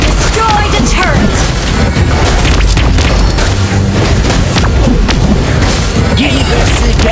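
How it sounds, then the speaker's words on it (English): A turret explodes in the Mobile Legends video game, a loud booming blast set within dense, continuous game effects and music, with an announcer voice over the din. "Your team destroyed the turret!"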